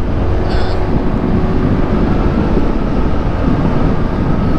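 A motorcycle rides through city streets in Cebu City, from Colon Street toward Mambaling, giving a steady, loud, continuous engine and road rumble with traffic noise around it and no talk throughout.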